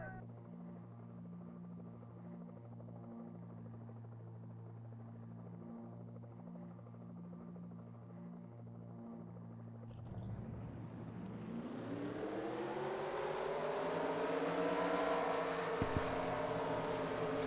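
Race car engines at Darlington for the Southern 500, a stock car Cup Series race in a racing video game, fire up after a steady low idle drone, then rise into a loud, swelling revving chorus of many engines.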